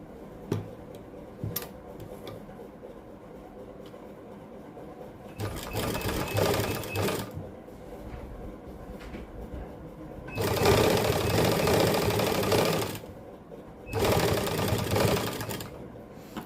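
Sewing machine stitching fabric, running in three separate loud, rapid whirring bursts close by, with quiet gaps of small ticks and handling noises between them.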